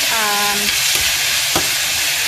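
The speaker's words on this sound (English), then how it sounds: "we're going to add a little bit of oil in a saucepan, and then we're going to add our tomate y nuestra cebolla y nuestro ajo" Tomato, onion and garlic sautéing in oil in a saucepan, a loud, close, continuous sizzle with a couple of brief stirring knocks.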